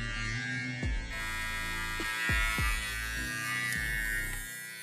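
A budget VGR electric hair trimmer runs continuously with a steady, fairly quiet buzzing hum, broken by a few faint handling clicks and thumps, and no one speaks.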